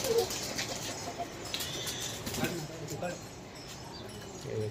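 Pet pigeons of Gandedar and Chataidar types in a Mumbai loft coo softly and keep it up, close by, while someone talks over them and faint clucking mixes in.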